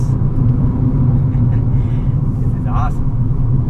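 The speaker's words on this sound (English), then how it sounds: "This car is in its element right here." A Fiat electric car drives along a twisty road, giving a steady low rumble of road and tyre noise that continues from start to finish beneath an excited voice.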